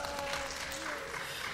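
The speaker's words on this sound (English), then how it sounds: "You got applause. That's awesome." Applause from an audience at a panel introduction of artists and entrepreneurs fills the room in a dense, steady patter of clapping throughout, with a voice faintly underneath.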